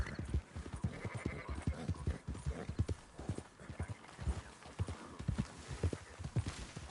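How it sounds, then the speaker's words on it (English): Horses trotting while herding sheep in the video game Red Dead Redemption 2, a steady run of close clip-clop hoofbeats with faint bleats and livestock sounds behind, fairly quiet and without talk. "Marston, why don't you leave the sheep to me"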